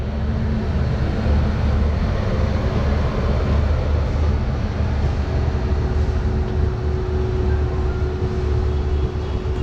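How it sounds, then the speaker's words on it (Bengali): Amrit Bharat Express 16597 from Howrah to New Jalpaiguri running on after leaving Dankuni, a steady loud rumble and rattle of the moving train heard from inside, continuous and unbroken with no talk. "এই ডানকুনি থেকে ছেড়ে দিল আমাদের ট্রেন"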